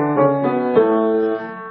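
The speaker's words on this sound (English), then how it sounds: "a simple five-note exercise on the piano that sounds like this" A piano plays a simple five-note vocal warm-up exercise, short clear notes in a rising pattern that then settle into a sustained, sounding tone.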